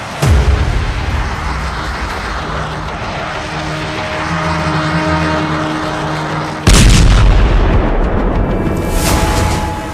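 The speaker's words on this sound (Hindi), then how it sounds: "पश्चिमी यरूशलेम में मिसाइल अटैक, तेल अवीव के करीब बेत शेमेश में हमला।" Missile strikes and gunfire in Israel: a loud sustained roar with a heavy booming blast partway through, followed by rumbling and crackle, close and intense, with no speech.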